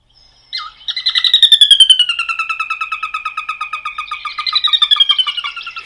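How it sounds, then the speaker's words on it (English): Sora rail call: a loud, rapid run of high whinnying notes that descends in pitch, close by and continuing for several seconds. "So the Sora rail does make a very interesting sound."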